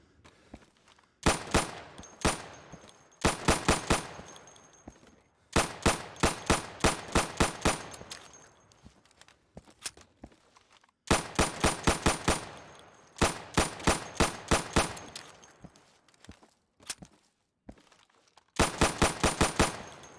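Gunfire at pop-up targets in the video game Insurgency comes as loud, close bursts of rapid automatic shots. Pauses of a second or two separate the bursts, giving roughly six clusters in all.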